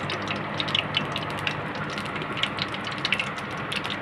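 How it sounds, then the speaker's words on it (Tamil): Mustard seeds dropped into hot oil for kara kulambu crackle and pop in quick irregular bursts over a dense sizzle, close and fairly loud throughout. "நம்மளுக்கு தேவையான அளவுக்கு கடுகு போட்டுக்கலாம்."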